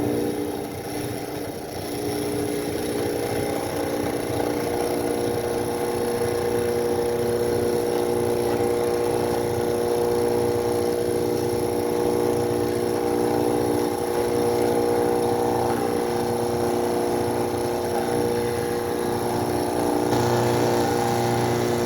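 A hand drill held in its chuck bores a counterbore into the end of a telescopic pole, running as a steady, fairly loud motor whine with grinding for the whole stretch and no talk.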